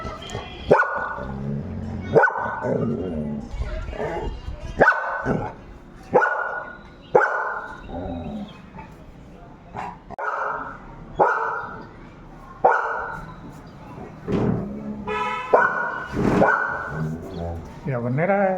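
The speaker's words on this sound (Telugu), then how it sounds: "తోకూపుకుంటే అక్కడ ఉన్న కుక్కల మీద హ్యారీగాడు అంత కుదరగొన్నాడు తెలుసా?" A golden retriever barks repeatedly in sharp, loud bursts with short gaps between them, mixed with some whining and a person talking in between.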